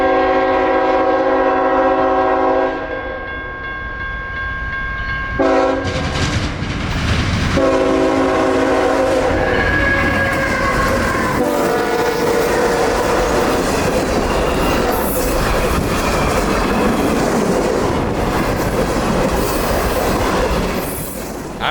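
A CSX intermodal freight train crosses a railroad diamond at night, a loud horn blast sounding before heavy wagons roll through with steady rumbling, clanking wheels and squealing metal close by.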